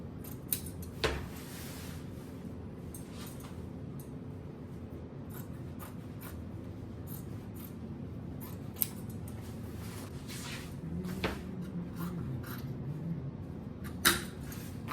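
Scissors snip through fabric blocks for a rag tote bag. Quiet, irregular cuts and rustles come close up against a soft, hushed room background.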